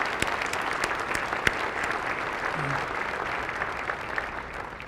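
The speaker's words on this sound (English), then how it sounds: "let's give them a round of applause early on" Steady, dense applause from a crowd of gala guests honoring award recipients, sustained and even throughout, with sharp individual claps standing out from the mass.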